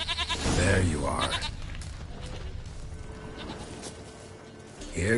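A goat bleats in the video game The Witcher 3: Wild Hunt, one loud wavering bleat at the start and another beginning at the end, with quieter ambience between.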